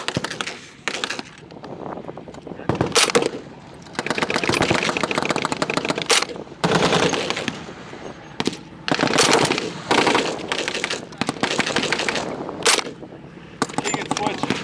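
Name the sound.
gunfire at a WW2 reenactment battle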